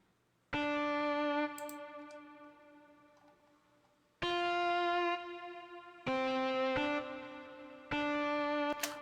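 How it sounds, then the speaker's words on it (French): Distorted lead electric guitar in a type beat mix, treated with reverb and delay. Sustained notes are struck one at a time, each ringing out and fading on a long echoing tail, with no voices. "Maintenant, nous allons partir directement à la guitare lead."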